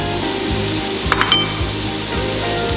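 Rice with peas and carrots cooking for arroz con pollo, a loud continuous sizzle with a brief clatter of a utensil stirring the pot midway.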